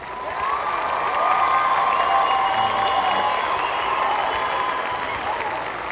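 A studio audience breaks into applause with some cheering, a dense, steady wash of clapping that swells in quickly and holds at a loud level for the whole stretch.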